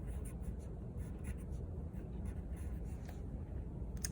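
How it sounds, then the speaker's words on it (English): A pencil scratches on paper in quick, soft strokes, close and faint, with a steady low background hum beneath it. "So we're going to write the word have."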